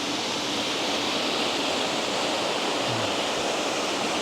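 Kensan Waterfalls roaring as a steady, dense broadband rush of falling water, loud and close, with no break across the whole stretch.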